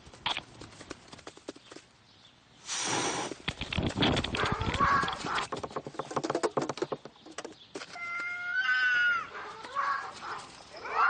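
Milo, a domestic cat wearing a collar camera, fights off intruding cats: scuffling and clattering bursts close to the collar, followed by drawn-out, wavering yowls toward the end.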